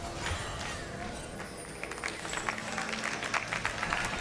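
Arena crowd applause and cheering at an LEC League of Legends esports match, Karmine Corp Blue versus Karmine Corp, a steady broad wash of clapping that swells slightly toward the end.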